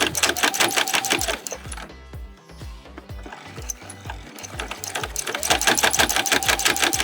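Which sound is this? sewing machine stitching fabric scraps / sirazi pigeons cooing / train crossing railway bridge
sewing machine stitching fabric scraps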